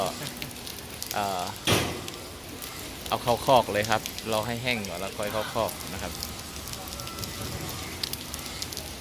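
Rain falls steadily as a continuous hiss around a horse stable while someone talks over it, his voice prominent in the middle of the stretch.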